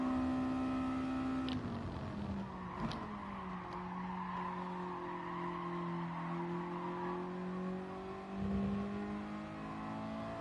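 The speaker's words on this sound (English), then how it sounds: "That skidding noise is not good for time." A race car in the driving game GT Sport holds a steady engine drone while its tires squeal and skid through a corner. A few sharp clicks sit on the tone, and the squeal swells again near the end.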